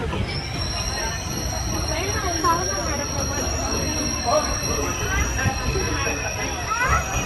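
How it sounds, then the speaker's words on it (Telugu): A Jan Shatabdi Express train rumbles steadily on the rails after departing Tenali Junction, heard from inside the coach as a loud, continuous roar with faint wheel squeal and distant background chatter. "మనం ట్రావెల్ చేస్తున్న జనశతాబ్ది ఎక్స్ప్రెస్ అయితే తెనాలి జంక్షన్ నుండి అయితే బయలుదేరిపోయింది"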